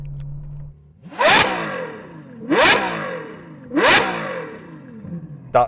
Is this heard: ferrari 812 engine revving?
yes